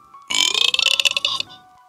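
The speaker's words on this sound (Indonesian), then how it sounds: "Kemudian dia bersendawa." One long, loud, close burp rolls out in a rattling, gurgling stretch of about a second after a person drinks iced tea, with no talk over it.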